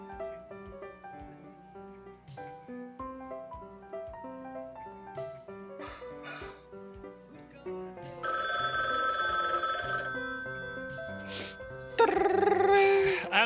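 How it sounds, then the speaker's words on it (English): During a Gartic Phone drawing game, an electronic telephone ring sounds twice, harsh and loud, over a busy layer of game music and sound effects. "Answer the fucking phone!"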